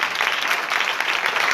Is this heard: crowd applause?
yes